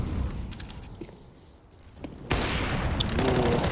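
Counter-Strike gunfire during a pro match: a few sharp shots early, then a loud sustained barrage of overlapping gunfire and impacts in the final second and a half, with a continuous game ambience throughout.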